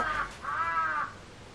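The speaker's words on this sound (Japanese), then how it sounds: "カラス" A crow gives two harsh caws in quick succession, fairly close and clear against a quiet background.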